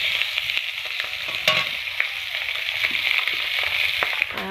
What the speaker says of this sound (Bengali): ডিমটা আলুটা একসাথে ভেজে নিলাম।